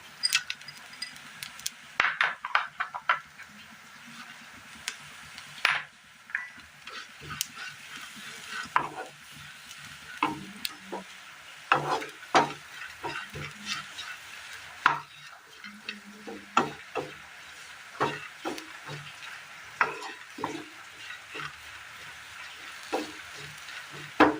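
Jackfruit pieces fry and get stirred in a pan for a sweet snack, with a steady soft sizzle under repeated scraping and clattering strokes of a spoon through the whole stretch.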